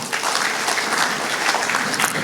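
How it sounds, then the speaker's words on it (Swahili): A church congregation clapping in praise, steady dense applause from many hands close by, sustained for a couple of seconds without a break. "Mpigie Bwana makofi."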